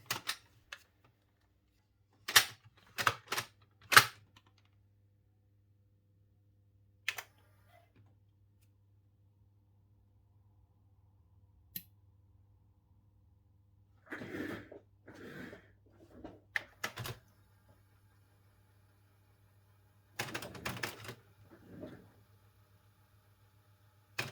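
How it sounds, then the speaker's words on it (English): Tape deck of a 1990s JVC MX-D4T mini hi-fi system, with belts just replaced, tested by pressing its transport: sparse sharp mechanical clicks and clunks, a couple of short whirring bursts, and a steady low hum between them. "Let's see if we have a working tape mechanism."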